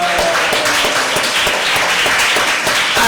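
Dense, loud applause from a church congregation fills the whole stretch, steady many-handed clapping with no voices over it.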